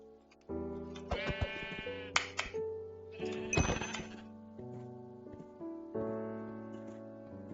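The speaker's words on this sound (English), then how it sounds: "the struggle is real killing these sheep" Sheep bleat repeatedly in Hungry World, a Web3 Minecraft-style game, with loud, close, wavering cries in several bursts, punctuated by sharp hit sounds and a bright chime.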